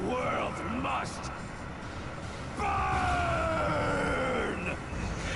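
The boss Pyra in the Mighty No. 9 video game lets out a loud, angry drawn-out yell in two bursts, the second longer and held, over rumbling game noise.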